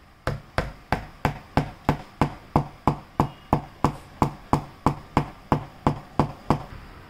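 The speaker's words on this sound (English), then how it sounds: "Take a hammer and gently make a hole in the karambit." A hammer gently and repeatedly tapping a thin screwdriver to punch a hole in a homemade karambit, about twenty sharp, evenly spaced knocks close up with no talk.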